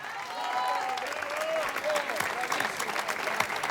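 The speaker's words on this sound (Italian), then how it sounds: "Un bel applauso ad ognuno dei miei musicisti." Outdoor crowd applause for orchestra musicians at a summer piazza concert in Jesolo swells and holds steady while a voice speaks over the clapping.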